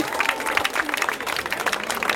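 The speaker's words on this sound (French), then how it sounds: "Merci d'avoir l'applaudissement nourri pour eux" Audience applause in a hall after thanks to the performers, steady dense clapping with crowd noise running throughout, fairly close and sustained.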